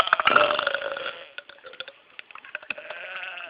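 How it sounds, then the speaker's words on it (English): A person burps repeatedly: one long, croaky belch followed by a string of shorter gurgling bursts, close and fairly loud. "Just sit here burping"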